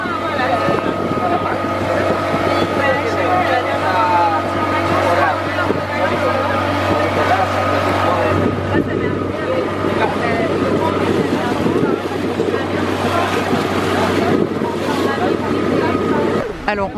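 A small motorboat carrying passengers off Bali, its steady engine drone mixed with strong wind buffeting the microphone, loud and continuous throughout with people talking over it.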